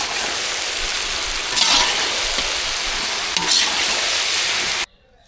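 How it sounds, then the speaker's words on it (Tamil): A hot pan sizzles loudly and steadily while a utensil stirs and scrapes through masala for sambar rice now and then, before the sound cuts off abruptly. "மசாலா சேர்த்தாச்சு நல்லா கலந்து விட்டுக்கலாம்"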